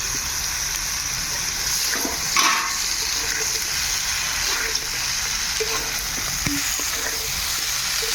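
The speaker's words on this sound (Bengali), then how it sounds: "কষিয়ে নিয়ে এবার ছেড়ে দেব ফুলকপি আলুটাকে।" Cauliflower and potatoes sizzle steadily in a frying pan for an Indian-style curry, a constant bright hiss with a few soft stirring clicks and scrapes, close and even throughout.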